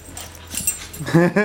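Puppies whimper and yip with high, bright cries toward the end, over a low background murmur and faint talk.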